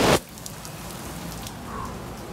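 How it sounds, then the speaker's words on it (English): Steady hard pattering of hail drumming on a surface at a house, with a brief louder clatter at the very start. "Lakas ng hail guys."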